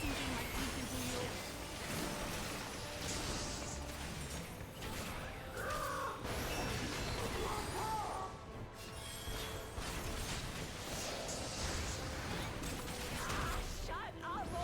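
A crow-like bird caws repeatedly in a video game, mixed into a busy bed of mechanical clatter, creaks and other game effects.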